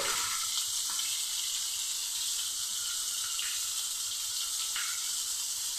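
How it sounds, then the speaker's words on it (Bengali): Pointed gourd (potol) frying in a little oil in a pan, a steady hiss of sizzling that holds evenly throughout with faint clinks, no voices. "আমি পটলটা ভেজে নিচ্ছি।"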